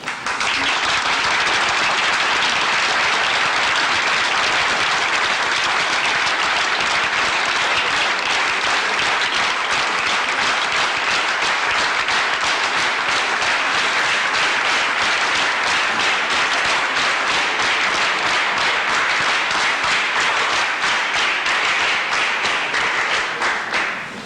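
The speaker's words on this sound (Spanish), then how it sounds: "los aplausos de los partidarios del señor Belaunde, que con su entusiasmo han roto la hospitalidad de esta invitación" Supporters of Fernando Belaunde Terry burst into sustained applause during a televised interview, a dense, loud wash of clapping from a crowd that continues steadily without a break.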